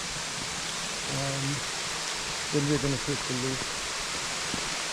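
A waterfall on a Shenandoah hiking trail produces a steady, even rush of falling water that fills the whole clip, and someone speaks briefly over it.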